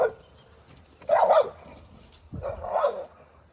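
A big shepherd dog lets out a few deep, loud barks spaced apart, fairly close, with quiet background between them.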